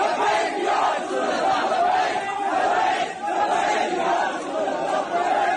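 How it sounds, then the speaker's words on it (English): A large crowd of Muslims in Pakistan chanting slogans, a dense, continuous roar of many voices with rhythmic rising and falling surges, loud and close throughout. "crowds of Muslims then gather in Pakistan and shout slogans"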